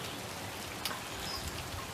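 Steady rain falling on a wet December morning, a dense continuous patter with a brief louder splash midway, fairly close and with no voices.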